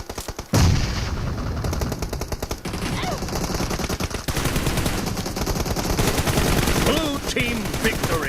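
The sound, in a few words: gunfire in BGIS video game match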